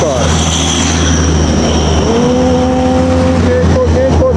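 Several buses rolling one after another along a road in Medan, a continuous loud engine roar and tyre rumble with passing drone, while people talk over it.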